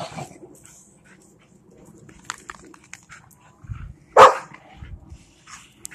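Several AKC Rottweilers playing rough together at a kennel, giving a few scattered barks, yips and whimpers amid scuffling. One sharp, loud bark stands out near the end, with low growly rumbles around it.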